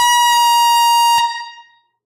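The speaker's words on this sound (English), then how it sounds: "we got to congratulate them with the air horn." Two air horns blasting together in one loud, steady tone with bright stacked harmonics, cut off after about a second and followed by a ringing fade-out.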